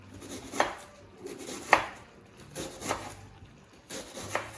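A knife chops Chinese cabbage (wombok) on a cutting board in four or five distinct, evenly spaced thuds with quiet pauses between, close and moderately loud.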